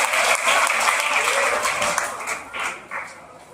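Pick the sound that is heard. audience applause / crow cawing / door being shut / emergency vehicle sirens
audience applause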